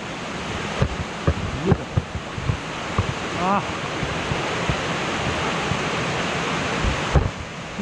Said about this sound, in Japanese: あ、素晴らしい滝だ。